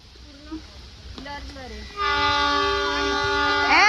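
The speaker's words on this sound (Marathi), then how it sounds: "टॉय ट्रेन आली आहे." The Matheran toy train arrives, its horn blaring in a loud sustained blast after softer rail and mechanical sounds, while people's voices are audible nearby.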